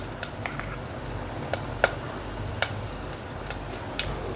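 Oil and butter sizzle in a pan as the base for butter chicken, giving a steady, close frying hiss with small pops and crackles throughout. No one speaks.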